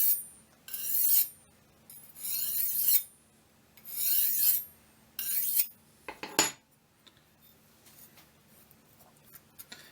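A thin knife blade is sharpened freehand on a stone in a series of rasping, hissy strokes, about five in quick rhythm, followed by a sharp metallic ring and faint scraping afterward, close up with no talking.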